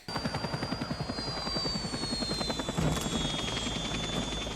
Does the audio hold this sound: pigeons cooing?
no